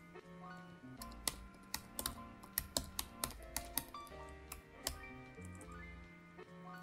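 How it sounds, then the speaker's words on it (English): Someone types a computer name on a keyboard while setting up Ubuntu Linux: quiet, close keystrokes in an uneven run, with a few sharper taps standing out and no voice. "Let's type in our name,"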